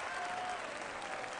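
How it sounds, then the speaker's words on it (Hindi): Applause in a film scene from Sarbjit (2016), following a call for clapping at a political rally; a steady, dense wash of hands clapping fills the short moment without pause. "तालियां।"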